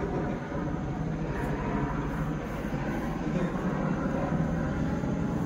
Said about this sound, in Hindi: तो ऊपर हेलिकॉप्टर जाउछ